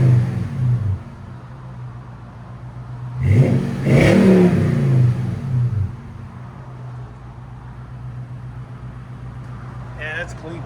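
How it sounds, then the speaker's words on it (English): A 2020 Toyota Tundra 5.7L V8 with an X-pipe and Flowmaster Super 40 exhaust gives one short, strong rev that swells and fades over a low rumble, with people talking around it. "Classic Flowmaster tone."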